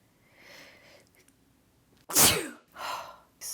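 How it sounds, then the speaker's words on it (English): A single sharp sneeze bursts out close and loud, preceded by a faint inhale and followed by a couple of softer breathy exhales and sniffs. "I've just sneezed."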